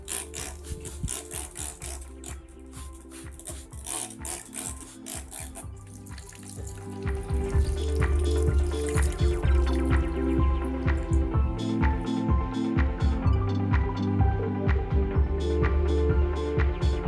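Water is poured into the soil of a terrarium built in a clay flower pot, giving trickling, dripping and small gritty clicks that grow louder and busier partway through, with no speech.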